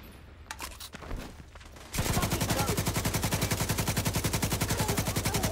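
An RPK machine gun in The Division 2 fires a long, rapid sustained burst of loud, evenly spaced shots, starting after two seconds of quieter game ambience and scattered distant pops.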